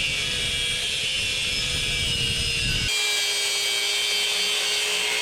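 A power tool with a flap disc grinds a half circle into a U-Haul box truck bumper, a steady close abrasive whine throughout, with the low rumble cutting out partway while the high grinding hiss continues.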